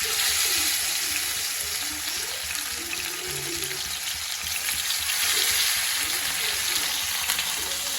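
Chopped medium-sized onion and curry leaves fry in hot oil with a steady, close sizzle throughout, along with occasional light stirring sounds and a faint watery background.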